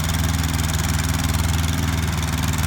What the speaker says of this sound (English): Avery's been out here on the tractor and tiller.